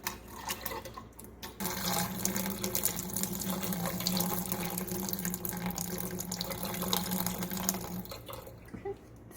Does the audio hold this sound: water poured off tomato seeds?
yes